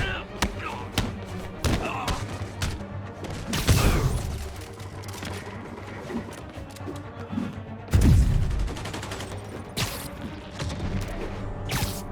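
Gunfire and impacts from armed enemies in a Marvel's Spider-Man Remastered fight, heard as irregular thumps, crashes and rapid bursts, with two heavy booms standing out amid the combat din.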